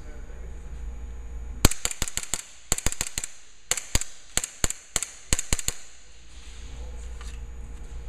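A magazine of BBs fired from a low-velocity airsoft pistol: about seventeen sharp, snappy pops in an irregular string, some quick doubles, loud and close, with no talking.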